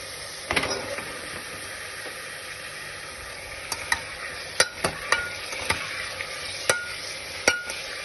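Bottle gourd cooks in ghee with salt, turmeric and red chili powder while a spoon stirs it, giving a steady soft sizzle punctuated by a series of distinct spoon taps and scrapes, more frequent in the second half.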